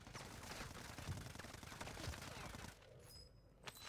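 Rapid gunfire bursts in a video game sound faint and distant, mixed with a player's voice, then the shooting stops.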